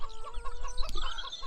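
Chickens cluck in a steady, close flock chatter, with one brief louder squawk partway through.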